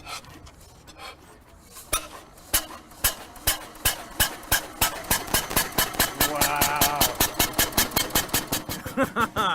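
An early antique car engine, with a flywheel used for ignition, runs with loud, evenly spaced single-cylinder chugs that quicken after starting. A faint metallic rattle rides underneath the beats.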